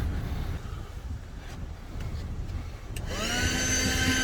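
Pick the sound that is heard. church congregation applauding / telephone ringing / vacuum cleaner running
vacuum cleaner running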